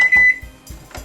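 A kitchen microwave oven running for about a minute to soften gingerbread dough in a bowl, giving a steady hum with short beeps at the start and end of the brief stretch.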